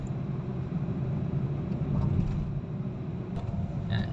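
A Hyundai Accent crawling up a steep slope in low gear around 3,000 RPM, heard as a steady low engine drone and rumble from inside the car, even and continuous with slight swells.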